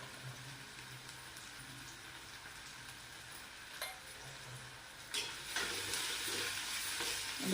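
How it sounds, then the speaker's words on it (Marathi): Red chili powder, coriander powder and garam masala fry in a pan for beetroot bhaji, a soft steady sizzle with spoon scrapes that grow louder and brighter toward the end, no voices. "चांगलं असं हलवून बीट टाकायचं. बीट टाकून छान हलवून घ्यायचं."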